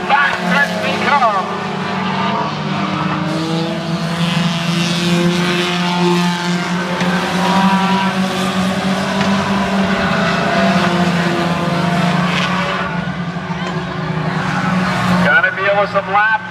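Race cars in a Honda feature roar side by side along a track, a loud, sustained engine drone with shifting pitch close to the listener, and a commentator talks over it.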